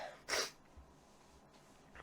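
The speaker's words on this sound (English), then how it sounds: "I'm going to sneeze" A single sharp sneeze bursts out close to the microphone, brief and breathy, followed by near silence.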